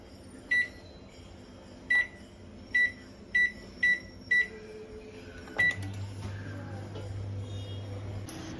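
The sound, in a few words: convection oven being set to preheat, beeping and humming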